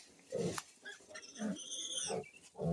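An orphaned piglet feeds on powdered milk formula, giving short, close grunts and snuffling oinks in an irregular series, with quiet gaps between bursts.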